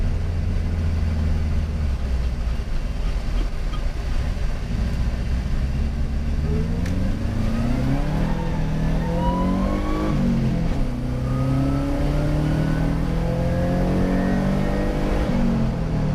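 A Subaru Loyale with an upgraded fuel pump drives a lap, its engine revving up and down in rising and falling sweeps, loud and close, with continuous road and drivetrain rumble beneath.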